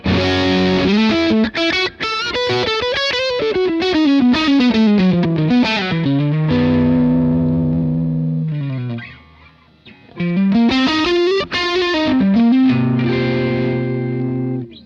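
Electric guitar through the Helix's Ibanez SD9 overdrive model, playing chords and melodic lines, loud and close, with a brief quiet pause before the riff resumes.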